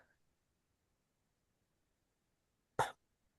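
A single sharp cough from a man with a persistent, nagging cough, close and loud after near silence.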